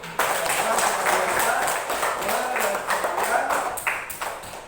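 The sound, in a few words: hand clapping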